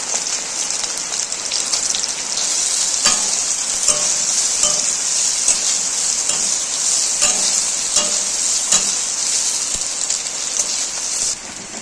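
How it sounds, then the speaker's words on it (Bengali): Boiled soybeans fry in hot oil, a loud dense sizzle like heavy rain running throughout, broken by repeated scraping stirs of a spatula against the pan. "ওই তেলের মধ্যে সেদ্ধ করা সয়াবিনটাও নেড়ে চেড়ে ভেজে নেব"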